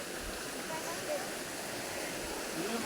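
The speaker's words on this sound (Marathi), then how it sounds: "नदी वाहणारी नदी आणि तिचा तो मंजुळा आवाज तुम्ही पाहू शकता" River water flowing near the Kadyacha Mahadev riverside temple by Somthana and Harbal villages in Kandhar taluka, a steady broad rushing wash heard close and fairly even, with faint voices nearby.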